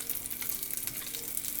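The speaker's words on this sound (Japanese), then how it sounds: "フライパンの温度が上がってきて、グアンチャーレから音が出てきました" Guanciale sizzles gently in a frying pan over low heat for amatriciana, a continuous soft crackle and fizz heard close up with no talking.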